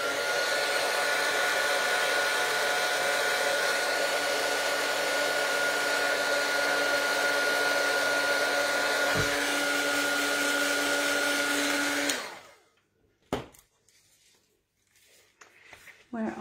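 A heat tool blows steadily for about twelve seconds, setting Wow brand embossing powder on an art journal page, with a loud even whoosh that cuts off abruptly, followed by a few faint clicks and handling sounds.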